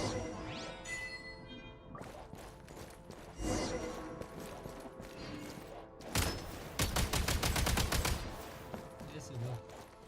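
Video game gunfire: repeated rapid bursts of shots and a sustained fusillade with crashing impacts, loud and dense, with some talk mixed in.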